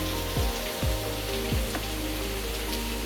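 Steady rain pours down on a cashew farm, a dense constant hiss with a few low dripping thuds and plops near the listener, no voices.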